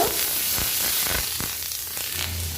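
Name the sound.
green chili, ginger paste and radhuni spice sautéing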